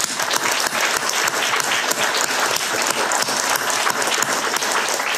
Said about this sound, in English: So I want to give a very warm applause for Marina for